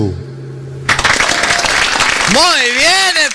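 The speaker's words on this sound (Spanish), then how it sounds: "fuerte el aplauso, por favor" Studio audience applause on a TV variety program, loud steady clapping that swells in suddenly after a sustained musical tone, with cheering and a voice rising and falling over it.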